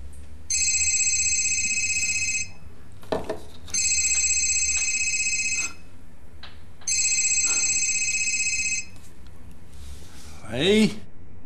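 Telephone ringback tone on an outgoing call, three evenly spaced electronic rings of about two seconds each, fairly loud, followed by some handling noise.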